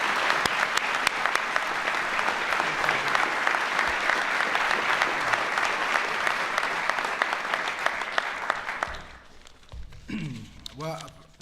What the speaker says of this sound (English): Let's give Jose a big round of applause,